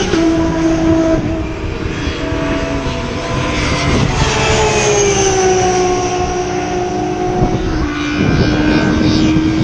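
Classic DTM touring race cars passing at the Nürburgring with direct-intake roar, a loud sustained engine drone with rising and falling tonal sweeps as cars go by, continuous throughout with no talk.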